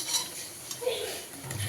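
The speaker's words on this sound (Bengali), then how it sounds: "এই যে আলুর পকোড়া হচ্ছে" Potato pakoras being made with sliced potato dipped in gram flour batter, heard as close clinks and scrapes of utensils against a pan or bowl, with a brief faint sizzle and no voices.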